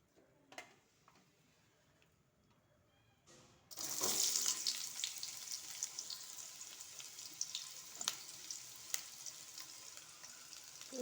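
Chopped onions hit hot oil in a pot for ridge gourd curry. A quiet lead-in breaks into a sudden loud sizzle that settles into a steady frying crackle with occasional pops.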